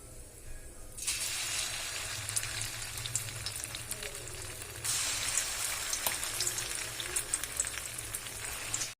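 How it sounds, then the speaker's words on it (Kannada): Ground mango chutney drops into hot oil and sizzles loudly and steadily, a dense crackling fry that jumps in intensity partway through as more is stirred or added, with no talk over it. "ಇಲ್ಲಿ ಎಣ್ಣೆ ಕಾದದ ಈ ಚಟ್ನಿ ಹಾಕೊಳ್ಕತ್ತೀನಿ ನಾನು"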